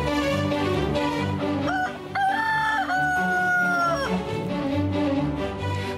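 Roosters crow loudly in a few drawn-out calls at a countryside restaurant surrounded by mountains, set against a dense, steady background of other sound.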